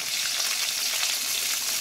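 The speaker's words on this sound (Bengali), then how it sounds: "এবার আমি ক্যাপসিকামগুলো দিয়ে হালকা একটু ভেজে নেব।" Capsicum and chopped tomato frying in hot oil with tempering spices in a Bengali kitchen, a dense, steady sizzle running close and loud throughout with no voices.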